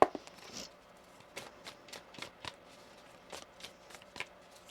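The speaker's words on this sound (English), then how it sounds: "One more shuffle here." A deck of tarot cards is shuffled by hand in a quiet room, a series of close, crisp riffling snaps coming in a loose, irregular rhythm.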